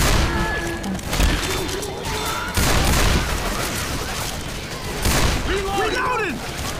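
Gunfire and explosive booms from the zombie shooter game Left 4 Dead 2 (Crash Course campaign), dense bursts of shots mixed with crashes and game noise, with voices talking over the action.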